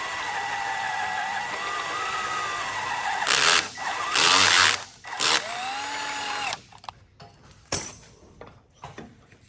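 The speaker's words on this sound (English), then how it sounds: "But I will grab a drill." Power drill whirring in short bursts during repair work on an abandoned 1969 Lincoln Continental. Several loud spins of a few seconds each, separated by pauses and a faint background hum.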